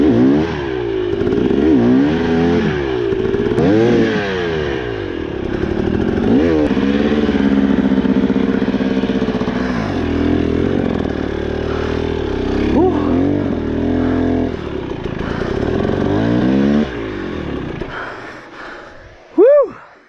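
A 2023 or 2024 KTM 300XC two-stroke dirt bike rides a muddy forest trail near Nate Creek, its engine revving and bogging continuously up close, rising and falling with throttle changes over the whole stretch.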